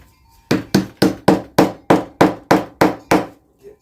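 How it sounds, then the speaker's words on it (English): A hammer strikes a wooden DIY flower planter about ten times in a steady, evenly spaced rhythm, each blow sharp, loud and close, followed by a softer final tap. "Take the hammer."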